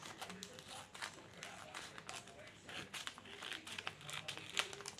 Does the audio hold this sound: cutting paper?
yes